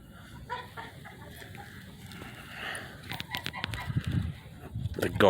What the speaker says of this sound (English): The guard geese.